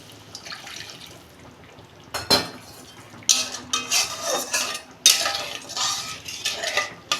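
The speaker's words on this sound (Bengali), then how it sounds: "আমি জল দিচ্ছি।" Water poured into a pan of fried spice paste while cooking a Bengali sarputi fish curry, giving sudden loud hissing bursts of sizzle with clinks of a utensil against the pan and no talking.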